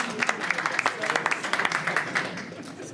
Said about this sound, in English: Give Adam a round of applause.